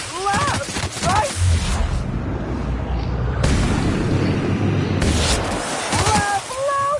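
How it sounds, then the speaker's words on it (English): Gunfire and explosions in The Outer Worlds video game, dense booming blasts and rumbling bursts filling the space, loud and sustained, with voices briefly heard at the start and end. "Based on the amount of gunfire I heard"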